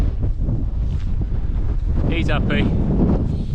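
Strong wind buffets the microphone in a steady roar on Carrock Fell in the Lake District, with a voice briefly speaking over it.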